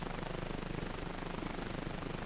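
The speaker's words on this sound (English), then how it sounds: "A military helicopter, the Piasecki, or Flying Banana" A Piasecki Flying Banana tandem-rotor military helicopter drones with a steady, dense engine and rotor roar throughout, loud and unbroken.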